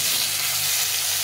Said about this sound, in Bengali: এখন আমি এর মধ্যে এই কচুটাকে ভেজে নেব।